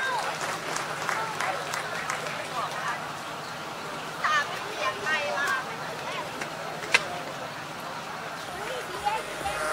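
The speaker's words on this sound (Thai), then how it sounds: "เสียงปรบมือดังๆเลยค่ะ" A crowd claps at an outdoor kick-off ceremony for underground power cables in Ubon Ratchathani, Thailand, with a steady patter of applause continuing beneath voices and background bustle.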